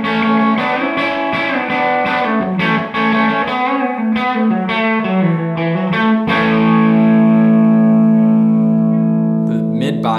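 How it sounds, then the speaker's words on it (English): Electric guitar played through a Tone King Galaxy amp head and 2x12 cabinet with gritty gain, a quick run of distorted notes and chords, loud and close, ending on a long sustained chord that rings out. "the gain on it has a lot of grit to it,"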